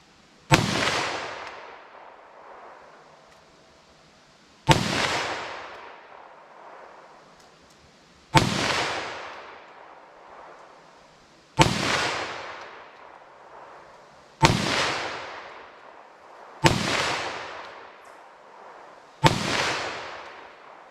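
Seven .357 SIG gunshots fired at a steel target, evenly spaced about three seconds apart, each a sharp loud crack with a decaying echo, no talking.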